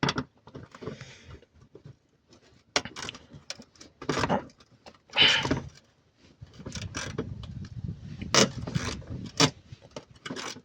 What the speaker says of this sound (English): Bolt squeaking.